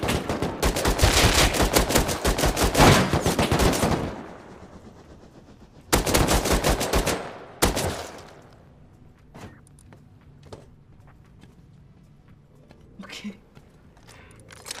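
Bursts of rapid automatic gunfire in the online survival game Rust, a long loud volley followed by two shorter sharp bursts, then scattered distant single shots and quieter footsteps.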